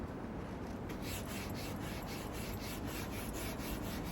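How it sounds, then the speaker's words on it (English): A sanding block and sandpaper rub along the edges of painted wooden furniture in quick, even back-and-forth strokes, a soft, steady rasp heard up close. "You just take a sanding block and some sandpaper and you tidy up the edges"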